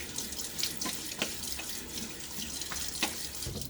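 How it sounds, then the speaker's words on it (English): Cold tap water runs into a sink and splashes in repeated handfuls against a face during a wet shave routine, a steady close faucet stream broken by sharp splashes, no talking. "Throw a little water on my face."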